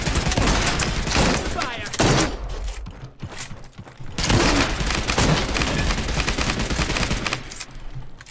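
Rapid gunfire bursts in the video game Realm Royale come in loud, dense volleys separated by short pauses.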